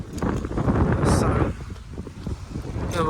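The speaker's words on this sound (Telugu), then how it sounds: "ఇండి స్పీడ్ అయితే మామూలుగా లేదు గాలి కొడుతూనే ఉంది" Strong wind buffets the microphone while cycling along a poorly maintained highway on a long-distance ride, a steady roaring rush with gusts that swell and ease, close and loud throughout.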